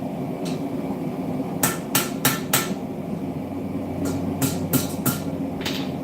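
Sharp hammer strikes ring out in two quick clusters of three or four blows each, over a steady low hum.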